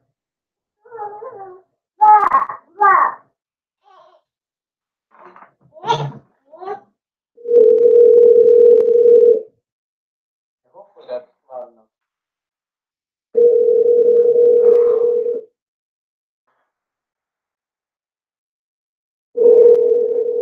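A telephone ringing tone sounds in long steady beeps with pauses between, following some brief talking and other short sounds earlier.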